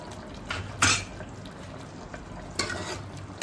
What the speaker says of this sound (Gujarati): પછી તેને મિક્સ કરીશું.